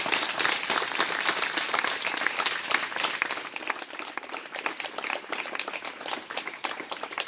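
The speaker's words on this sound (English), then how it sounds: "can I ask you students to also give a warm round of applause to your parents?" Warm applause from a school audience of students and families at a senior inter-house drama competition, loud dense clapping with some sharper individual claps, continuing steadily throughout.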